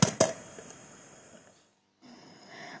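Two quick thumps on a homemade drum made from a cocoa tin, followed by a fading hiss, a brief silence, then soft rustling noise.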